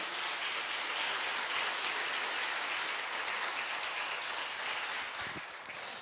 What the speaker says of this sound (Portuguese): Então eu quero que você aplaude Jesus pela sua vida nessa noite.